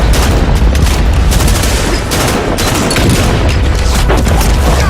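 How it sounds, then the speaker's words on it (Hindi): Dense battle gunfire in a war reenactment: continuous loud crackling volleys and booms that overlap without pause across the whole stretch. "उन्होंने अपना मोर्चा संभाल फायर खोल दिया"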